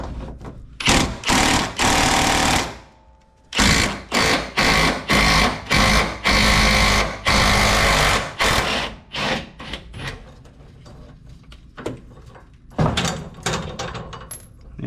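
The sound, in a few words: power tool removing 14mm fuel tank strap fasteners, Toyota Tundra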